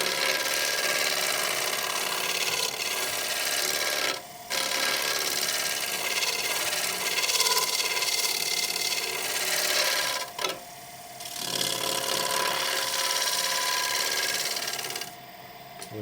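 A wooden bowl spinning on a lathe while a scraper is held lightly against it, giving a steady close rasping scrape over the machine's hum, broken by three brief pauses.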